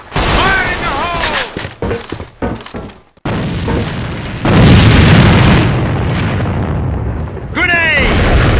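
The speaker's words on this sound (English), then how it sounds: "Grenade!" Grenade blasts in the AVA first-person shooter, with heavy booming explosions and sustained roaring rumble across most of the stretch, interrupted by a brief silent gap, with shouted voices over the game noise.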